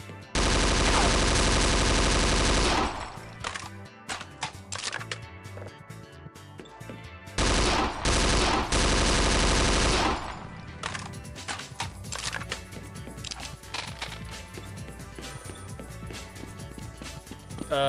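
AK rifle firing in The Specialists, a Half-Life mod; two long sustained bursts of loud automatic gunfire separated by busy clattering game sounds and shorter shots.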